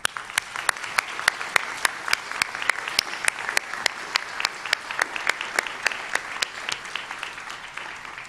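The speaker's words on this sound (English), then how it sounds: "Please join me in one more round of applause for them." Audience applause at a Northwestern Health Sciences University commencement ceremony, a steady run of individual claps ringing out clearly over a soft crowd wash, sustained at moderate loudness throughout.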